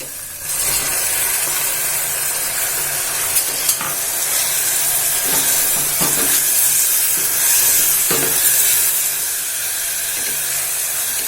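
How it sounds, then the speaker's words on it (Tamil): Tomatoes sautéing with onions in a pan, a continuous close hiss and sizzle with a few soft clicks of stirring scattered through. "இப்போ தக்காளி வதங்கிட்டு இருக்கு."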